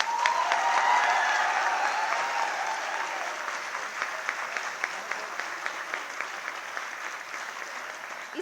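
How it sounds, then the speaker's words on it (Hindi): An audience at a motivational talk for students in Patna claps loudly to welcome a speaker. The applause is steady and even, strongest at the start, and fades a little as it goes on. "जोरदार तालियों से स्वागत करें।"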